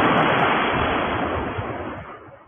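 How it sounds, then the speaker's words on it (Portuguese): A bomb falling over Belgorod in wartime, heard as a loud, steady broadband rush that slowly fades over about two seconds, with no voices. "Isso aí é a bomba caindo."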